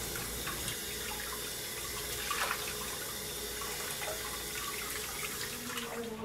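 Water runs steadily from a tap, with soft splashing and occasional spatters as a face is rinsed of cleanser under the warm stream.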